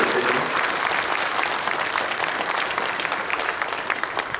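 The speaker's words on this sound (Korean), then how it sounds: "자녀들에게 격려의 박수 해주시기 바랍니다." A room full of people at an Easter dawn church service claps steadily and warmly for several seconds, with no voices standing out.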